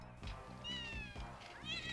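A cat yowls on a film soundtrack: several drawn-out, wavering meows, close and fairly loud, set over low background music.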